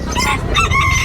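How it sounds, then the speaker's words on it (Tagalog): Chickens at the Bocaue pet market cluck and call close by in a brief, loud burst of overlapping bird sounds over busy background market noise. "Maganda ng mga manok, oh."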